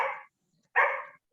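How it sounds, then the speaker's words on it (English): A dog barks twice, loud and close, with a short silent gap between the two sharp barks. It is heard during an online business networking meeting, with no talking over it. "It's my dog."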